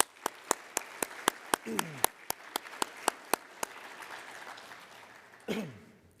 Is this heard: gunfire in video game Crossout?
no